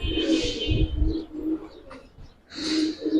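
Giribaz flying pigeons in a large collection give low, rolling coos close by, mixed with bursts of breathy rustling and a brief lull midway.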